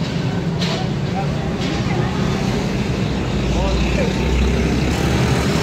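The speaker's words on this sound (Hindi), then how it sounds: "वरना पीछे बहुत गाड़ियां गुजर रही।" Continuous roar of heavy road traffic with many vehicles passing close behind, a dense, loud rumble that never lets up.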